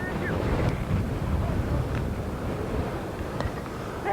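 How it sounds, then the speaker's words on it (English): Strong, gusting wind at a baseball field buffets the microphone in a loud, continuous low roar that swells and eases, with faint background sounds underneath. "We all struggle to stand upright here in this wind. Really gusting."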